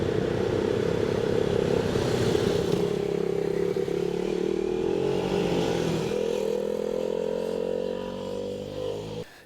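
A KTM RC390 motorcycle with a 375cc single-cylinder four-stroke engine runs at a steady buzzing pitch with a slight rise in revs, then fades out at the end.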